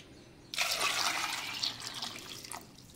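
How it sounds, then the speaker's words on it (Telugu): Water pours steadily into a pot of soaked, washed taro roots, a close, rushing splash that starts abruptly and continues for a couple of seconds before easing off. "ఇప్పుడు ఇందులో మనం వాటర్ వేసుకుందాము"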